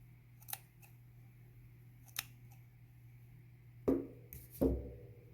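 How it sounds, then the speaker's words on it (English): Scissors snipping through loops of fishing twine for tassel tails on a craft charm: a few small, sparse clicks and snips, close and quiet over a faint hum, with two slightly louder cuts near the end. "I'll also use my scissors on this end to cut off the extra and then go through and cut all of the loops."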